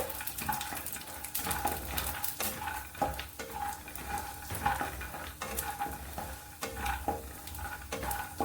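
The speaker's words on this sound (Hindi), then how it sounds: "लगातार चलाते हुए हम मूंगफली को भी तल लेंगे" Peanuts frying in ghee in a pan while being stirred constantly, with a soft sizzle under repeated scraping and clinking of the spoon against the pan at a quick, uneven pace.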